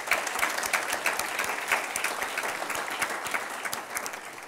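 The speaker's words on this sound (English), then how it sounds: "how about a nice round of applause for them as well?" An audience at a city council candidate forum in Ventura claps for volunteers in a continuous, moderately loud round of applause, with individual claps standing out sharply in a fairly close, steady rhythm.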